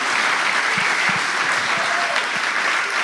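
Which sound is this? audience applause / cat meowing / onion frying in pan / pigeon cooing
audience applause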